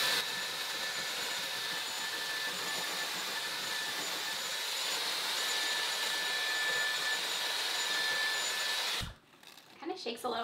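A Dyson Airwrap hair styler running through hair, a loud steady airy whir that holds for about nine seconds before cutting off abruptly, followed by quieter handling noise.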